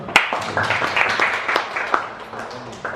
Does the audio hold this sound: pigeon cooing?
no